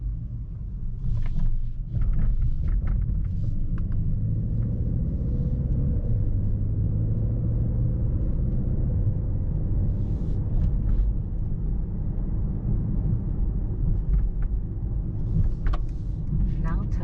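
A 2024 Mercedes-AMG S63 sedan with an 800 hp V8 cruises through the night, its engine a steady low rumble heard from inside the cabin, continuous and moderately loud with faint higher road noise over it.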